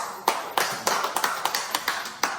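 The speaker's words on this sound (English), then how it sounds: "Give yourself a big clap." Sharp, evenly spaced claps, around a dozen in quick succession, close and crisp, sounding like one person clapping rather than a crowd.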